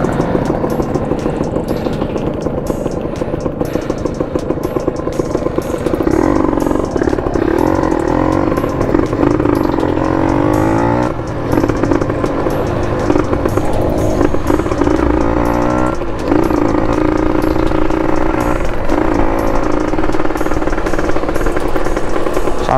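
Kawasaki ZX motorcycle fitted with a tiger exhaust pipe, riding along winding roads; a loud, steady engine drone and raspy exhaust roar continuously dominate, with brief dips and surges in intensity as the rider works the throttle.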